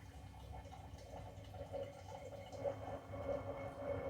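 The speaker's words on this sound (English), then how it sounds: "Let me get some water out of the hot water dispenser." Hot water pours steadily from a countertop hot water dispenser into a container in a home kitchen, a soft continuous trickle that swells slightly as it fills.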